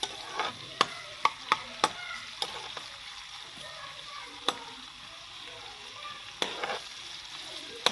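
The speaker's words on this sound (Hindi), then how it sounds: "प्याज को हम करेंगे ब्राउन अच्छे से" Onions browning in a pan for a mixed moong and masoor dal, a steady low sizzle broken by sharp clicks and scrapes of a spoon stirring, close by with no talk.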